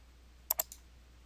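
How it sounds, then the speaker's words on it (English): A computer mouse clicks on a button in Excel 2010, two sharp close clicks in quick succession followed by a fainter third, over a quiet room hum. "we'll click on the Pivot Table button"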